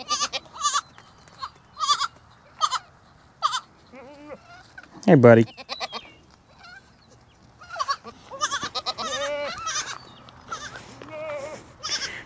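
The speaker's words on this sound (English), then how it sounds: "Another little billy goat." Baby billy goats on a farm bleat in short, high, repeated cries, close by, with one louder, longer bleat in the middle, while someone talks softly between them.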